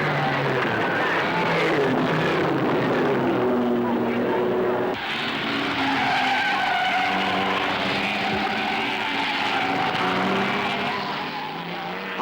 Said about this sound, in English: On lap two, the Cunningham leads at Tertre Rouge, Walters having completed his first lap at a